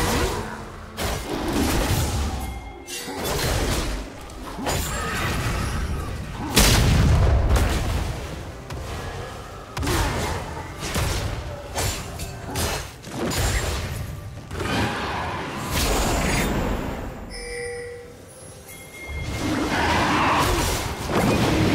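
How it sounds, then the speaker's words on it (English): A turret being destroyed in League of Legends, with heavy booming impacts, crashes and whooshing bursts that repeat loudly throughout amid busy game effects. "Blue team's turret has been destroyed."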